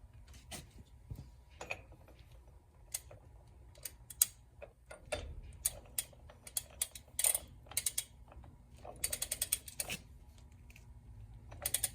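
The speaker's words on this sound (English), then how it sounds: "Now we're going to torque it down to 50." A torque wrench ratchets and clicks while a front wheel nut is tightened on a Kenworth W900 truck, giving a run of sharp, irregular ticks and clacks close by, with no talking.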